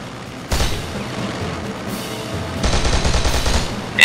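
Aircraft machine gun fire during a strafing run in a flight video game, loud sustained bursts starting after a half-second lead-in and intensifying toward the end, no talking.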